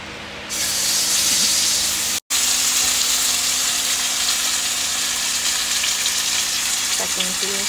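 Plantain slices fry in hot oil in a pan, giving a loud, steady sizzle that runs almost unbroken, with a very brief dropout early on and a few faint clinks near the end.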